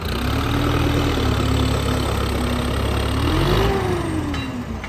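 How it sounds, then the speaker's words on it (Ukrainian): Heavy 10-25 tractor with a MAN engine working to pull out a stuck semi-truck, its diesel droning loud and steady, rising briefly in pitch under load before easing back. "Витягуємо 10-25 з мановським мотором."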